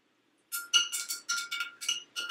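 A paintbrush rinsed in a glass water jar gives a quick series of bright, close clinks and taps against the glass, about eight in two seconds, after a brief silence.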